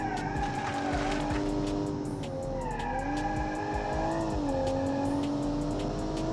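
Simulated car engine in BeamNG, a modern carburetored SUV, revving hard with rising and falling harmonic tones as it shifts, mixed with tire squeal and skidding, loud and continuous throughout.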